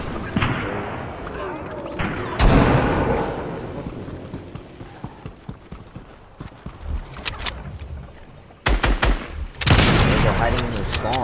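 Rapid bursts of video game gunfire crackle through a busy mix, with dense volleys near the start, the middle and the end, and softer scattered shots in between.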